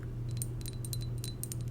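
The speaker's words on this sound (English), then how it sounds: "The glass tapping sounds" Light glass taps on a perfume bottle, a series of small, crisp clicks spread evenly over a steady low hum, close and quiet with no talking.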